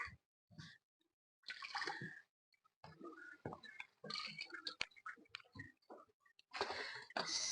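Water poured onto seeds in garden soil comes in irregular splashing bursts and trickles, close and fairly quiet, separated by short silences.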